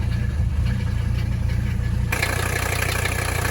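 A Mercedes 300D diesel engine idles steadily up close with a loud low rumble and even clatter, its tone brightening partway through, with no talking.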